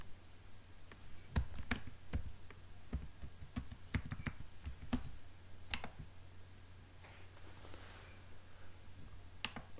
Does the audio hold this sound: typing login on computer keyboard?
yes